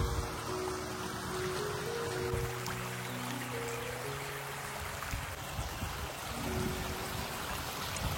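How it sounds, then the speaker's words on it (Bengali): A small waterfall spills down a Swiss mountainside as a steady, moderately loud rushing of water that holds evenly throughout, with no one speaking. "এখানে কিউট একটা ঝর্ণা, এই পাহাড় থেকে পানি নামছে এদিক থেকে।"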